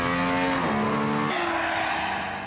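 A road-legal hypercar's high-revving Formula 1 engine screams steadily, its pitch stepping through gear changes, loud and close throughout.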